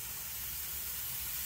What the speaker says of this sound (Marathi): आणि शिजला भात, शिट्टी मारली.